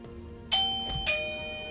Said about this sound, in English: I got a nice little doorbell installed in my shed here so I could hear the front door going during work hours